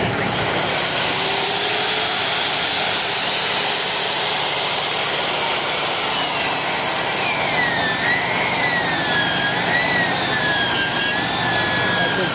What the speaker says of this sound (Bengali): লাইনের পাইপ, বিশাল লম্বা পাইপ এখানে জয়েন হচ্ছে মেশিনের সাহায্যে। এই মেশিন দিয়ে হিট দিবে,